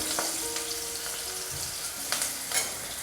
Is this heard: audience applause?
no